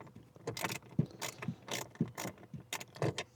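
A ratchet fitted with a short socket backs out blower motor screws, making a run of quick, close clicking bursts in a regular back-and-forth rhythm, loud and alone.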